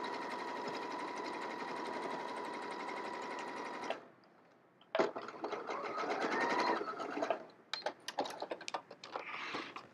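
A sewing machine stitches a curved seam on a zip pouch, its steady close whir running for about four seconds, stopping, then resuming in shorter, uneven bursts as the curve is worked.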